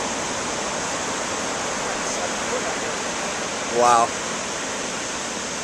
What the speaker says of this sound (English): A little bit of a big set coming in here and near the pier.